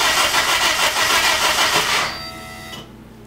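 A car engine fitted with a Megasquirt engine management system is started with a key. There are about two seconds of loud, dense cranking and engine roar, which then drops abruptly to a quieter, fading hum with faint tonal whine.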